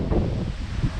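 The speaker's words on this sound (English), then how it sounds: "it's nice and windy, so hope your volume's up really loud so that you can hear it" Wind buffets the microphone outdoors in Evora, Portugal, a brief, muffled low rushing roar with a static-like hiss and uneven gusty swells, no voices.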